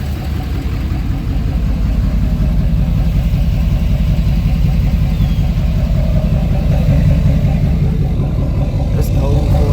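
A car engine idles roughly on a cold morning after a cold start, a loud, steady low chugging with an even rhythm close by, a voice occasionally talking over it.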